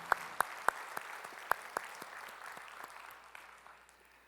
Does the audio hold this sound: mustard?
no